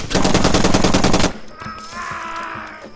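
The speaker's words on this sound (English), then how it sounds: "They're shooting me with the rifles" Rifle fire in the video game Far Cry 2: a loud, rapid burst of automatic shots lasting just over a second, followed by sparser distant cracks and a faint tonal hum.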